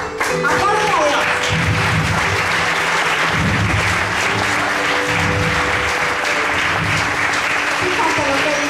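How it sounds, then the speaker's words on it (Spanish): A church congregation applauds God during a Spanish-language worship service, sustained loud clapping from many hands filling the room, with a low hum and faint voices mixed beneath. "aplaude a Dios"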